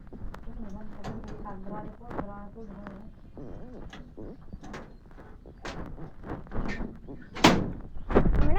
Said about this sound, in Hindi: अब खोलते हैं अंदर का दरवाज़ा।